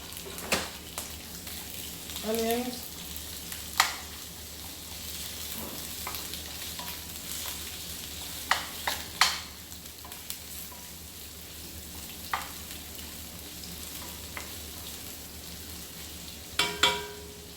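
Garlic and sliced onions fry in a pan for a Jamaican tomato coconut curry chicken, a low continuous sizzle broken by scattered sharp clicks and scrapes of stirring.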